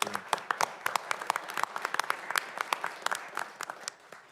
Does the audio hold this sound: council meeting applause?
yes